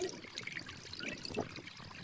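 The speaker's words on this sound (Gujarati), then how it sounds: "મસ્ત મજાનું પાણી આલી જાય" Irrigation water runs into a banana field with a soft, steady trickling and gurgling flow, fairly faint and continuous throughout.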